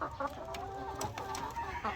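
Hens cluck softly and repeatedly close by, with short overlapping calls in a quiet farmyard setting.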